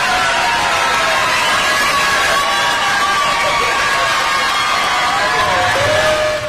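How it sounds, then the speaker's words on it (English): A large crowd at a Donald Trump rally roaring and cheering, a loud sustained wash of voices with whistles and a rising tone near the end. "That loud cheering."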